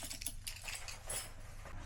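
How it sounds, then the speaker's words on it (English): A bunch of keys jangles in short metallic bursts, close but fairly quiet, over a low background hum, with no talking. "Keys."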